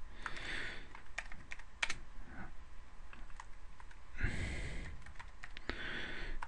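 Computer keyboard typing in scattered quick bursts of soft clicks with pauses between, quiet and close, no talk.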